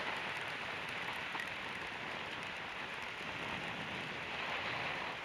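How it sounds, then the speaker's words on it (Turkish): Steady rain falls during a motorcycle ride on a slick, muddy road, a constant even hiss of drops with no breaks and no voices. "Şu anda yağıyor, ıslanıyoruz yani."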